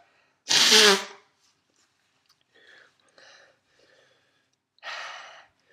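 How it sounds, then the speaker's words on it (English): After eating a Bhutlah chili pepper, a man takes one sharp, loud gasping breath, then several faint, shaky breaths and shuffles, and ends with a second strong exhale. "Trying to calm down with the breathing. Don't want to breathe too fast."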